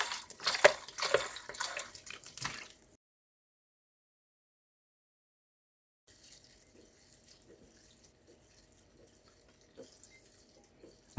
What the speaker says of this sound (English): I'm going to wash my seeds.